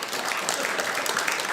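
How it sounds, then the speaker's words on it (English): An audience at a memorial service claps together in dense, continuous applause that is fairly loud and close, a brief burst with no break and no talking. "let's give another round of applause for my mother for bringing us all here"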